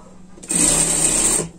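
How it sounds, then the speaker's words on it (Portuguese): A sewing machine stitches a sling pet bag with white thread, one close, loud, steady whirring run of about a second that starts and stops cleanly. "Aqui eu vou costurar com a linha branca mesmo"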